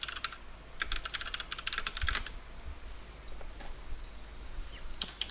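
A computer keyboard clatters through quick bursts of typing, clustered keystrokes followed by scattered single taps, close and fairly crisp with no voices.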